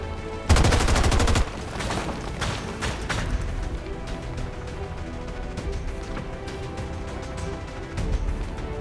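XCOM 2 gunfire, a loud rapid automatic burst lasting about a second, then scattered single shots and mechanical clatter amid ongoing combat noise.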